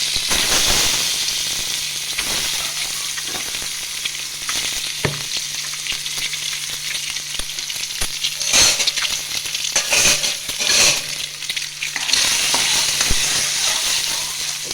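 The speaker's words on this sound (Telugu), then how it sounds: "ఘాట్లు పెట్టుకొని ఫ్రై చేసుకుందాము." Scored boiled eggs fry in hot oil. A steady, bright sizzle carries through the whole stretch, broken by occasional scraping and stirring knocks in the pan, with a faint low hum underneath.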